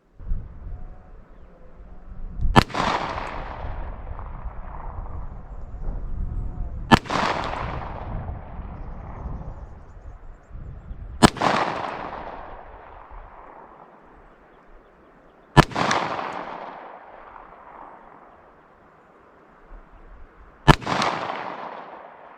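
Five loud revolver shots from a Ruger GP100 firing .44 Special 240 grain lead semi-wadcutter rounds, evenly spaced several seconds apart, each a sharp crack with a decaying echo.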